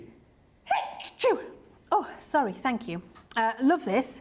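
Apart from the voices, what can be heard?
person sneezing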